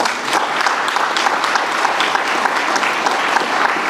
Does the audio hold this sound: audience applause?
yes